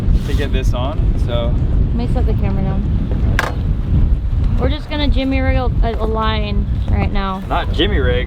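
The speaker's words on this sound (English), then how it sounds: "It's really windy, so I might not be able to hear you." Heavy storm wind buffets the microphone on a trawler boat with a constant low roar while someone talks close by through the gusts.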